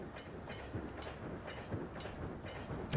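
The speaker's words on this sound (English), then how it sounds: "I guess I'll try to move my train at least through there for now" A train passing through a junction in a train automation video game gives a quiet, steady rolling rumble with faint rhythmic clacks throughout, with no one talking.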